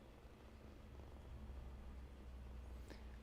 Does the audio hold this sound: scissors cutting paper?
no